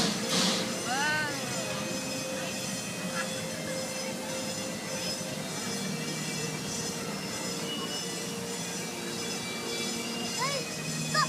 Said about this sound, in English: look, it's one more train.